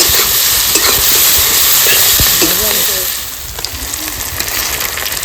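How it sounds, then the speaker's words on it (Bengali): Onion and tomato frying in a pan for a country chicken curry with jackfruit, producing a loud, dense hissing sizzle with splattering and stirring clatter, while a voice talks faintly in the background. "পেঁয়াজ দেবো টমেটো টমেটো পেঁয়াজ দিয়ে দিলাম"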